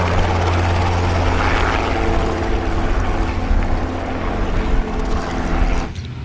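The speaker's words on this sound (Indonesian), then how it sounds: "Lihat, ada helikopter terbang." A toy helicopter flying, its rotor making a loud, steady whirring drone with buzzing harmonics that holds throughout and drops off abruptly near the end.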